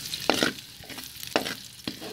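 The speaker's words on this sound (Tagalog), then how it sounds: "Sa pinagprituhan natin ng ating pork, maglalagay po tayo ng bawang" Garlic frying in oil left over from frying pork, a soft sizzle with intermittent stirring scrapes, close and moderately quiet.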